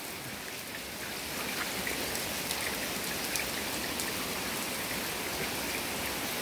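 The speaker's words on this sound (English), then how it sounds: "Pretty wet rain." Rain falls steadily on garden plants on a 60-degree day, a dense, even hiss of drops that stays loud and unbroken throughout with no voices.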